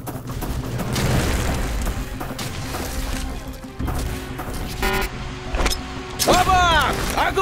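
Grenade blast in the Arctic Combat sniper shooter game, a few heavy booming bursts and crashes cutting through dense, loud battle noise.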